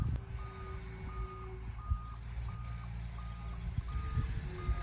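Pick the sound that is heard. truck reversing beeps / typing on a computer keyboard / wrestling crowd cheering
truck reversing beeps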